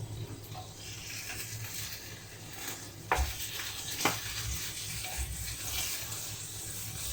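Spaghetti frying in tomato sauce in a pot, a low steady sizzle with faint stirring scrapes and two brief sharper clacks partway through, no talk.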